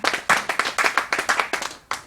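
A church congregation clapping in a quick, even rhythm, a dense run of sharp hand claps close by.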